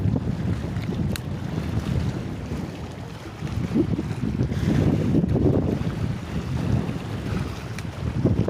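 Steady wind gusting across an open Ganges riverbank, with a rough, blustery rush and the wash of waves lapping nearby, swelling and easing throughout with no voices.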